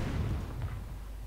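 A single deep mortar shell launch in a war strategy game, a heavy low boom that quickly decays into a rumbling tail.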